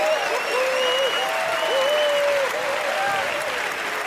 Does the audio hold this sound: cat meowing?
no